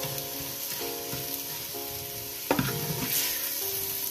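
Masala of turmeric and red chili powder with green chilies fries in a handi pot, a steady close sizzle with occasional stirring scrapes and a louder clatter midway.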